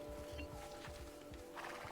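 A horse in the video game Assassin's Creed Brotherhood, with hoof clip-clops and a neigh or whinny over steady game ambience, moderately loud and without speech.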